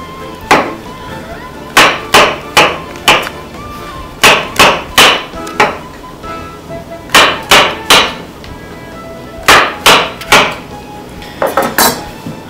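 Knife cutting food into thin strips on a board in a home kitchen, a steady run of sharp, close chopping knocks in quick clusters with short pauses between strokes.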